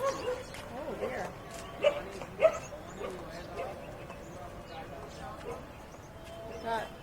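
A dog barks a few times amid a crowded outdoor scene at the Hanuman Ji monkey temple in Jaipur, India, the short barks rising briefly over steady background chatter and people talking nearby.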